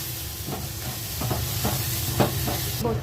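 Marathi-style masala paste (vatan) roasting in a pan, a constant hiss and sizzle with occasional stirring scrapes, close up and with no one speaking.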